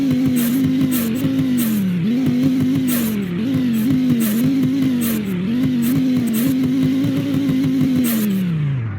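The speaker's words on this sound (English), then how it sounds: "normal Viper startup here, but now let's go rev this car." Viper car in the video game Greenville revving repeatedly: a loud, close engine note rising and falling in steady waves, with sharp bursts between revs and no talking.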